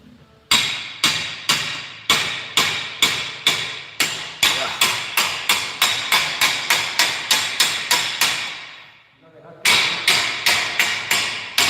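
Rapid, regular hammer blows ring out one after another, a sharp metallic strike roughly every half second, pausing briefly before resuming.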